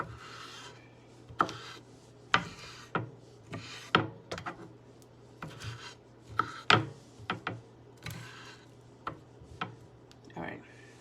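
Knife chopping onions and green peppers on a cutting board for pizza topping, irregular sharp taps and scraping rasps spread unevenly at close range, with a steady low hum underneath.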